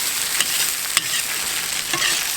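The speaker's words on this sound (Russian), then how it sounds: "Все это перемешиваем и начинаем обжаривать." Tomato paste and carrots frying in a hot pan, a continuous bright sizzle with occasional scraping and tapping as they are stirred.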